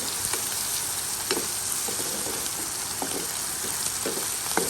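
Shrimp frying in a pan, a steady close sizzle with small crackles and occasional stirring scrapes, continuous and even throughout with no talking.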